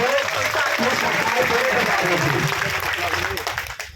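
An audience claps loudly at a gathering about teacher transfers, a dense, continuous round of applause that fades out toward the end, with a voice talking over it.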